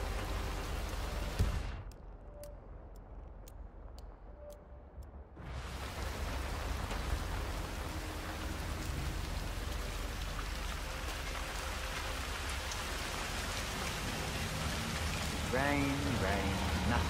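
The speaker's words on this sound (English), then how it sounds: "Rain, rain. Nothing but rain." Rain falling in the Chongqing level of Hitman 3 makes a dense, steady hiss of drops hitting surfaces, broken early by a brief quieter gap with faint ticks.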